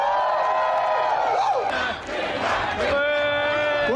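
A loud crowd at the DreamHack Melbourne gaming event cheers and yells together, a dense roar of many voices with whoops and shouts rising over it, steady and close for the whole stretch.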